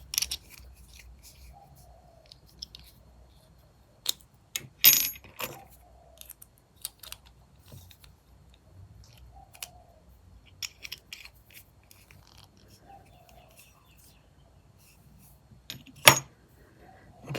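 Small metal scissors with timber handles are handled and snipped at close range, giving sparse light clicks and metallic jangles scattered through quiet stretches, with a few sharper bursts.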